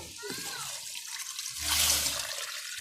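Broth pours into a simmering pot of sautéed mung beans in a brief splashing rush near the middle, with a voice talking faintly before it.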